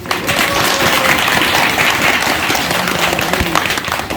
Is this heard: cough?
no